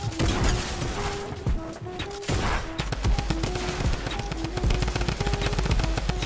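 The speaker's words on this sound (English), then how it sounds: "he came in from the other side with a drum gun" Sustained bursts from a drum gun in Fortnite, fast and loud, with short breaks between volleys and a steady game tone underneath.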